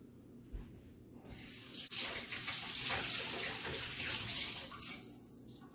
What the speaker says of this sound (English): I'm gonna have to run these underwater really quick